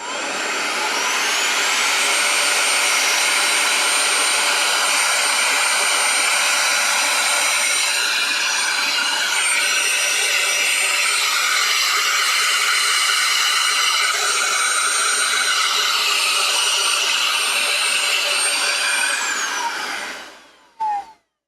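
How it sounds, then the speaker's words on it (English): A vacuum cleaner with a brush attachment roars loudly and steadily for about twenty seconds with a whining tone, then cuts off and winds down. "Vacuum cleaner's going back on."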